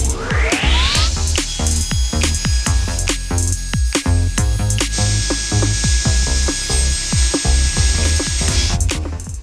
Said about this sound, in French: Donc là, on va aller à la scie à format là-bas.